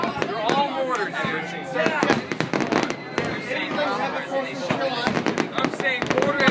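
Fourth of July fireworks mortars bursting at Fort Myers Beach, a rapid string of loud sharp booms and crackles over a crowd, with people shouting and talking nearby.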